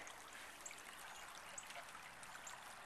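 Autumn farm creek running steadily, a continuous broadband rush and trickle of flowing water with small bright splashes, close and even throughout with no talk.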